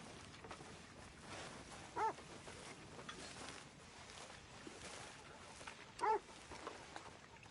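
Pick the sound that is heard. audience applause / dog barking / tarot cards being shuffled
dog barking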